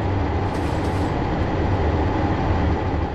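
The Santa Fe Super Chief passenger train pulls out eastbound from Kansas City Union Station in Trainz 2022, a steady, loud rumble of rolling wheels and engine with no breaks.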